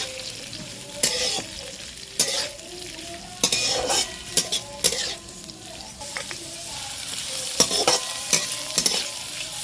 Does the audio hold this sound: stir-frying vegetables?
yes